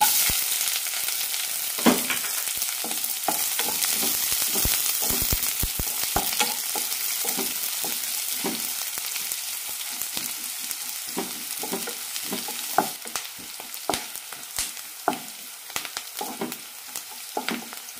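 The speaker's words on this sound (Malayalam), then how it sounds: "ഉലുവ ചോന്നു കഴിഞ്ഞ് സവാള ഇട്ട് കൊടുക്കാം" Sliced onions fry with fenugreek and mustard seeds in hot oil in a pan for an ivy gourd curry, giving a steady, close sizzle broken by scraping stirs, with no voices.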